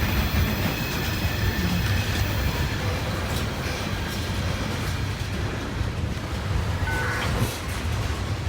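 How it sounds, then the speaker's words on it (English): A heavy coal freight train, each car carrying about 90 tons, rumbles steadily past near a tunnel in Gallitzin, Pennsylvania, with continuous loud wheel roar, rhythmic clatter and a brief wheel squeal. "This is one heavy train."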